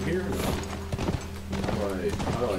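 Horse hooves in The Last of Us clop in a steady rhythm under continuous talking, with some mechanical rattling mixed in.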